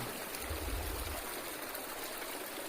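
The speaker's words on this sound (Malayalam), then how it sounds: "ഇതാണ് നമ്മുടെ സൗവർണിക പുഴ. വേനൽക്കാലം ആയതുകൊണ്ട് വെള്ളം കുറവാണ്." The Souparnika river, running low in summer, flows in a steady wash of trickling, rushing water that holds even throughout, nearby and unbroken by voices.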